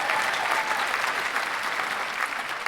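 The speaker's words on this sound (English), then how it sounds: "Applause." Steady, dense audience applause during a live film quiz podcast recording with comedians, a crowd clapping loudly and continuously throughout without any break.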